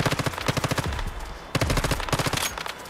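Rapid gunfire in a video game as players shoot the glowing parts of a boss, two dense bursts of fast rhythmic shots separated by a brief lull, loud and close.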